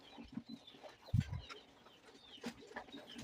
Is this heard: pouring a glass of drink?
no